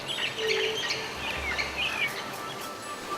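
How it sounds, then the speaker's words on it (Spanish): Birds sing and chirp along a calm river on a summer day, with many overlapping twittering calls over a steady wash of background noise. "Una asamblea de aves que cantan al verano, se alimentan y gozan del agua mansa del río."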